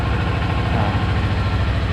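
A new Kawasaki Z400SE motorcycle engine idles just after starting, a steady low rumble heard up close and on its own, with no talk over it.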